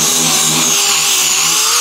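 A power sander works the trunk lid of a 2007 Subaru Impreza STi outdoors, giving a loud, steady whine with shifting pitch and nothing else over it.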